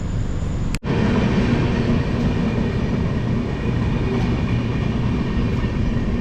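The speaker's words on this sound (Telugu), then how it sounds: "కొనార్క్ ఎక్స్ప్రెస్" A Konark Express passenger train runs past on the main line at Jangaon, a loud, steady rumble of wheels and carriages close by that continues without pause after a brief cut at the start.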